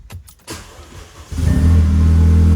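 An Audi B8 with a sticking clutch pedal is started nearby: a few clicks and the starter crank, then the engine catches at about 1.3 seconds and settles into a loud, steady idle.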